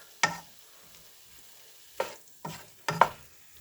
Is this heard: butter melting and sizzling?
yes